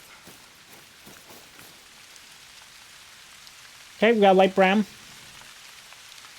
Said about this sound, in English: we're hearing the pitter-patter of the rain